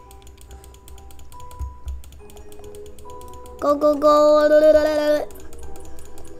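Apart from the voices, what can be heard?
rapid clicking on a computer keyboard while playing Roblox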